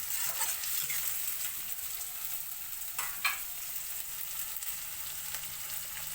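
Sliced onions and chillies frying in a pan, a continuous bright sizzle with a few stirring scrapes and pops, close and steady, no talking.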